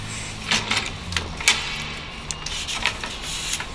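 Metal leg section of a folding canopy being slid upward, giving a series of short, sharp clicks and scrapes spaced irregularly over a faint background, fairly close and moderately loud.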